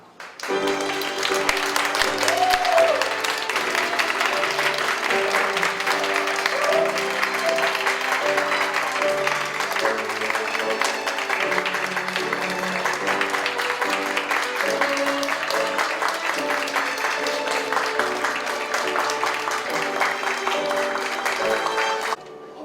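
Guests at a Korean wedding give sustained, dense applause for the groom's entrance, loud and steady for about twenty seconds, with a few voices faintly mixed into the clapping.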